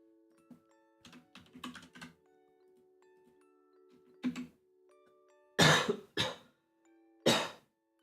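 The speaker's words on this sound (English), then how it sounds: "Okay, I was not coughing. Now I'm coughing." Several short, sharp coughs near the microphone in a quiet room, coming in bursts alongside earlier soft computer keyboard typing and clicks.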